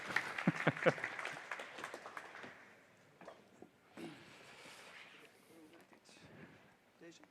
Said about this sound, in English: A warm welcome or applause.